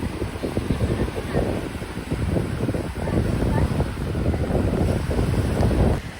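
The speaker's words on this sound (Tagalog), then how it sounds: "Maalon yung dagat." Rough sea at a beach in Noveleta, Cavite, surging and crashing steadily as strong wind buffets the microphone, loud and close, with no speech.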